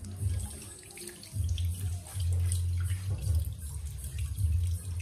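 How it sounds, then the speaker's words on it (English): A tap runs into a sink while someone washes their hands, a close, fluctuating gush and splash of water that carries on steadily with small surges throughout. No one speaks over it. "Wash my hands."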